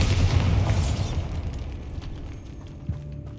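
A Bombarda explosion spell goes off in the Hogwarts Legacy video game inside a tomb, giving a loud, deep boom with a bright burst that fades into a long rumbling decay, followed by a faint later thud.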